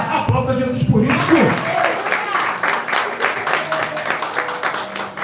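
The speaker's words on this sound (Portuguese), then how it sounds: "Aplauda Jesus por isso" A church congregation applauds during a sermon, steady clapping filling the room beneath a preacher's loud voice.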